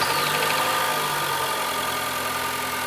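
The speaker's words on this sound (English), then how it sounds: "Robin, if you can go ahead and start the engine for us." A car engine runs at a steady, close idle with an even mechanical hum and faint vibration. There is no talk. The clip does not hold a clear start-up crank.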